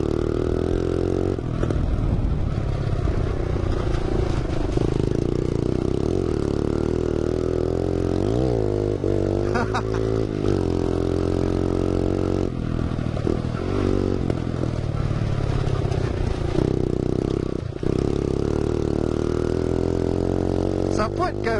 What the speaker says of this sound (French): la vieille dehors, avec le pot troué et tout, c'est catastrophique